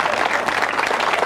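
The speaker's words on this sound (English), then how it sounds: "See how he cued them to clap?" Audience applause in a replayed video recording, a short, dense burst of many hands clapping together, loud and steady for just over a second.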